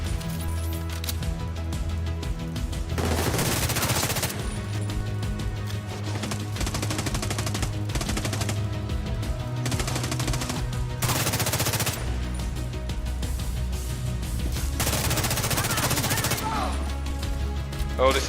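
Rapid automatic gunfire bursts in The Division 2, loud repeated volleys alternating with shorter pauses, with someone talking over the action.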